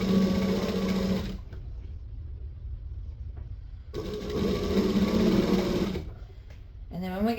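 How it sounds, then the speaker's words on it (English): A sewing machine stitches double-fold bias binding onto an apron in two steady runs with a quiet pause between them, and a short final burst at the end. "now I'm just going to stitch and back stitch"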